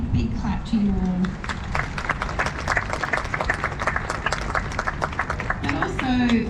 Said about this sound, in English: big clap to you all